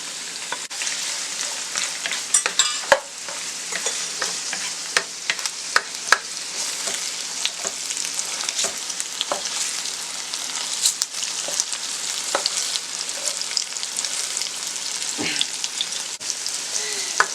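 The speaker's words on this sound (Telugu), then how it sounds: "ఒక క్యారెట్ 4-5 బీన్స్ ఇలా చిన్నగా కట్ చేసుకొని వేసుకొని ఫ్రై చేసుకోవాలి" Chopped carrot and beans frying in a pan for chicken fried rice: a continuous crackling sizzle of hot oil with scattered pops and occasional stirring scrapes throughout.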